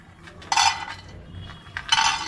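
Raw peanuts tipped into a hot dry pan for roasting, two clattering bursts of rattling nuts against metal about a second and a half apart, close and fairly loud with quiet between.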